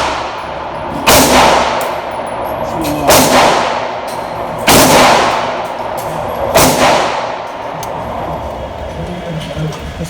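Handgun shots at a shooting range, including a GLFA Synergy, Romulus, MAC9 and Match X: four loud, sharp reports spaced roughly two seconds apart, each with a ringing metallic tail.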